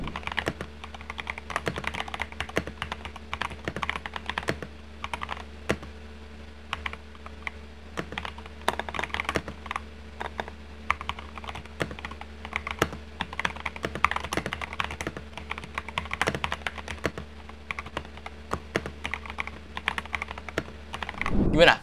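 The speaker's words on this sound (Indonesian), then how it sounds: "Clacky gak? Jujur, menurut gue paling suka tuh keyboard dengan tipe suara yang clacky kayak gini nih." Rapid typing on an Epomaker Shadow X mechanical keyboard with clacky switches, a continuous close stream of sharp key clicks over a faint steady hum.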